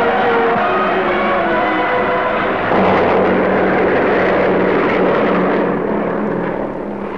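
Italian military aeroplanes in flight during the invasion of Abyssinia, giving a loud, steady droning engine roar that holds for several seconds with no gaps, slightly swelling midway and easing a little toward the end.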